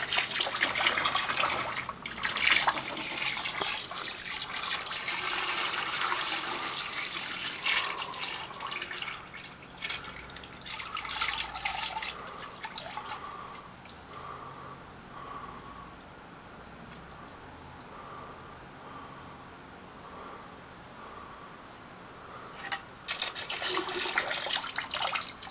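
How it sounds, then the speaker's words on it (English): A gallon of diesel fuel is poured into a container holding two gallons of ATF in a garage: a close, continuous gurgling liquid stream with splashing that eases off late, then briefly swells again. "And putting in a gallon of diesel fuel."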